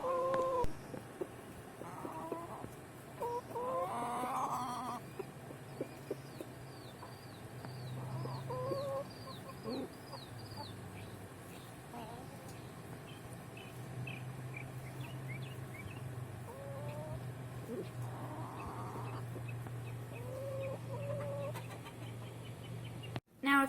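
A non-broody hen clucks and squawks after being given an egg, with repeated agitated chicken calls and cackles scattered over a quiet farmyard background, fairly faint, with other fowl nearby.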